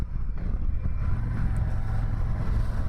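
Harley-Davidson Road Glide ST motorcycle engine droning steadily under throttle, a loud, continuous low rumble with wind noise, heard while riding and with no talking.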